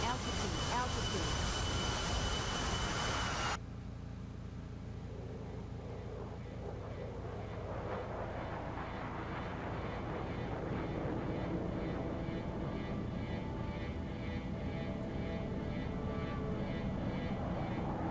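Aircraft engine roar from the DCS World flight simulator, a loud broadband drone that drops sharply after about three seconds, then continues as a steady, lower rumble with faint voices beneath it.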